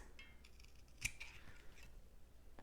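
Scissors snip once through synthetic leather at the corners of a crossbody bag, a single crisp close cut standing out from a quiet room with faint rustling around it.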